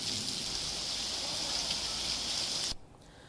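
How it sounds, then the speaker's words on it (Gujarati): Steady monsoon rain pours down in Junagadh, Gujarat, a dense, even hiss of falling water that holds at constant strength and then drops off abruptly near the end. "આપ જોઈ રહ્યા છો સતત સારો વરસાદ છે।"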